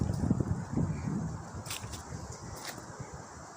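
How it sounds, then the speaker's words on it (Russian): Strong wind gusting through trees and stripping the last leaves, a continuous rushing roar with rustling and microphone buffeting, fairly close and fading slightly toward the end. "Сейчас вот этот ветрило последнее растрясет, и все."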